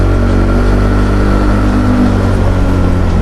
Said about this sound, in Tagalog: i-cool down na natin yung makina kasi tutulak natin to pataas at masyadong maingay